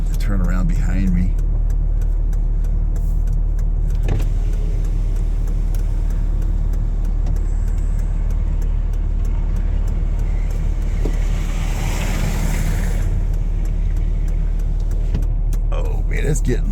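A car drives along a snowy mountain road in a blizzard at Oak Glen, its steady engine and road rumble continuous and close throughout, with people talking over it inside the vehicle.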